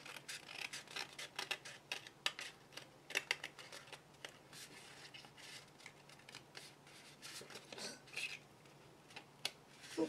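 Scissors snip through paper for a handmade treasure box, a run of light, crisp cuts close by at an irregular rhythm, with faint rustling between them.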